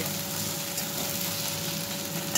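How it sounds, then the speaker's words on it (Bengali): Garlic and ginger fry in hot oil in a pan, producing a dense, even sizzle that holds steady at close range without any voices. "রসুনটা ভাজা হয়ে যাক বন্ধুরা, তারপর আদা আমার ভাজা হয়ে গেছে"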